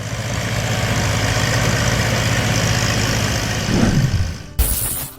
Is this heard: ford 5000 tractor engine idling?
yes